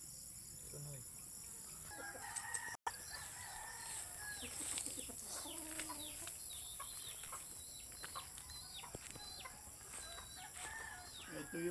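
A rooster crows in a rural provincial yard, its calls rising over a steady background of insects and distant fowl clucking, with occasional soft human voices.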